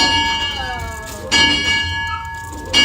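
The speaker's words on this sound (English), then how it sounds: "Alright, ring the bell." A steam train's bell rings with loud metallic strikes about every second and a half, each leaving a sustained ringing tone.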